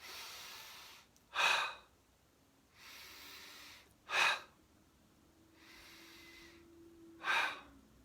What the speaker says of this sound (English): Eyes closed and a few big inhale exhales.